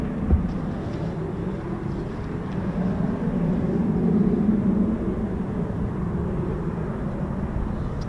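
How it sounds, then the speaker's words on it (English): An Embraer Phenom jet on approach to an RAF airfield produces a steady, low, distant rumble that swells slightly at mid-clip and holds without breaks. "Possibly another Embraer Phenom."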